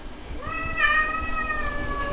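A cat gives one clear, rising meow near the microphone, with no talking.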